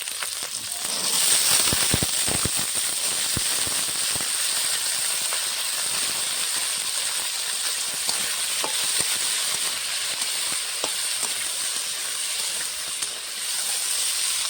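Potatoes, flat beans and carrots hitting hot mustard oil, a loud continuous hissing sizzle with scattered crackles and a few clattering stirs early on, close and steady throughout.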